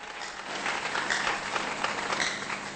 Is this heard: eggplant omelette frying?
no